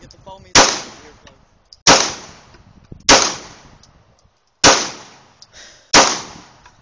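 Handgun fired five times in a slow, irregular series, each shot a loud, sharp, close crack with a quick decay, no talk between shots.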